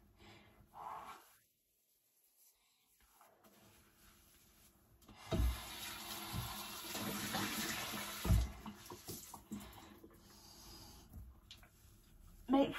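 A bathroom tap runs water to wet a flannel, a steady hissing stream with rubbing and knocks, after a quiet stretch; a voice is heard briefly.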